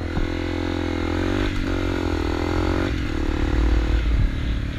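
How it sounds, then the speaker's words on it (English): A Honda CRF250L dirt bike engine drones loudly and close while riding park laps, a steady single-cylinder buzz with a few brief rises in revs. "got a dirt bike."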